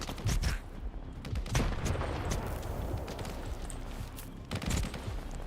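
Grenade blast and bursts of gunfire in STALKER 2, sharp loud shots and cracks peppering the whole stretch with heavier impacts near the start and toward the end, over a constant rumbling battle din.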